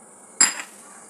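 Cumin, bay leaf, a clove, a cinnamon stick and star anise hit hot oil for tempering, giving one sudden loud sizzling burst that quickly settles into a steady, fainter crackle, close by with no talking.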